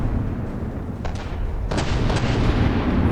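Naval turret guns fire in a ship-battle video game, giving a few muffled booming bursts over a loud, steady roar of battle noise, with no talking.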